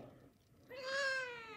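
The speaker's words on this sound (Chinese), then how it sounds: "我们这小猫是一个混血猫" A young, just-weaned mixed-breed kitten in Spain, a British Shorthair cross, gives a single clear rising meow, close and fairly soft, in a quiet room.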